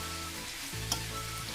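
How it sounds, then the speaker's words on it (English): Mushrooms sauteing in a pan for chicken marsala, a steady close sizzle with a brief stir clink midway and a low hum underneath. "So now you're gonna let these saute up"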